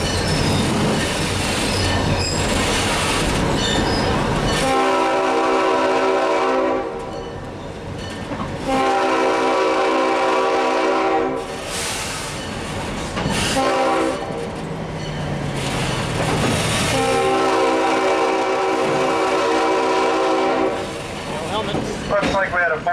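A slow freight train rolls past at about 10 mph, its horn sounding in long repeated blasts over steady rumbling and wheel squeal; a four-wheeler races alongside.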